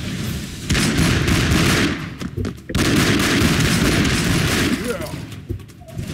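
Gunfire in the Broforce video game: dense, continuous bursts of shooting and explosions, loud and close, with a brief gap midway before the barrage resumes.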